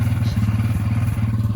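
A Scrambler quad ATV, a 4-stroke four-wheel-drive machine, runs on choke just after starting, its engine chugging close and loud in a rough, uneven rhythm with a few clattering thumps.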